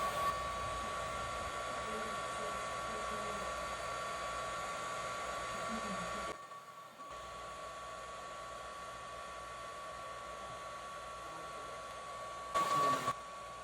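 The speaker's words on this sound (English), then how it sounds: "I'm using the heat gun to just get some warm air on that sticker" A heat gun blows warm air onto the adhesive label of a Game Boy Advance Pokemon FireRed cartridge, giving a steady close whirring hiss with a thin tonal whine that drops out briefly midway before resuming.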